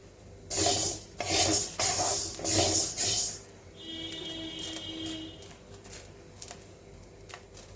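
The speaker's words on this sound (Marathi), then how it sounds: "आवाज येत असेल तुम्हाला हे बघा साबुदाणा चांगल्या क्वालिटीचा असला की तो लवकर पण भाजून होतो" Sago pearls dry-roasting in a pan are stirred with a metal spoon, giving five loud scraping, rattling strokes close by, followed by quieter clinks and a faint steady hiss.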